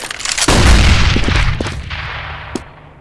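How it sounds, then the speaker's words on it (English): A flashbang grenade goes off in Counter-Strike: Global Offensive, one loud, close booming blast with a long fading rumble, followed by a few faint clicks and a small sharp tap near the end. "Deploying flashbang."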